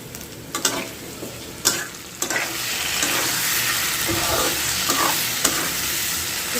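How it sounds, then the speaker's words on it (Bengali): Paneer and potatoes sauté together in a hot pan, a loud steady sizzle broken by sharp scraping stirs and clanks of the spatula, close up with no speech. "পনিরগুলো আর আলুগুলো একসঙ্গে 1 মিনিট একটু কষিয়ে নিলাম"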